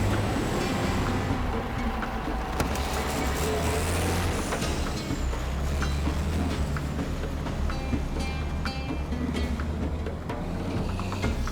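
An old truck nicknamed the Warthog grinds along a road in the Congo, its low engine drone steady and continuous with rattling and occasional hiss-like bursts, no voices.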